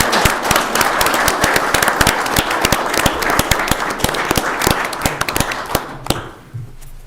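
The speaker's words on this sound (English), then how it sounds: "You asked for applause at the end, and you get it" Applause at a city council meeting after a police officer's remarks, a small crowd clapping with distinct sharp individual claps, fairly close, thinning out and stopping near the end.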